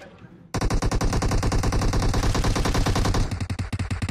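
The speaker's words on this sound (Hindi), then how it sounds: "Machine gun." Rapid, loud machine gun fire from an M249 in the Darkest Night zombie mode of a shooter game: a sustained burst of dense, evenly spaced shots after a brief quiet start, tapering into spaced single rounds at the end.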